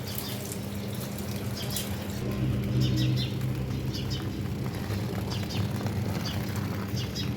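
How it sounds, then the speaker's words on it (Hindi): Several birds chirp in short bright bursts over a constant wash of running water and low background noise. "ये कौन सी चिड़िया बोल रही है?"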